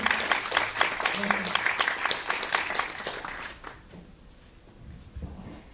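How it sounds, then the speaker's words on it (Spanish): Audience applause welcoming a woman to the stage before a lecture on public-space art, with dense clapping that swells and then thins out over a few seconds, leaving scattered claps and faint room noise. "Recibámosla, por favor, con un caluroso aplauso"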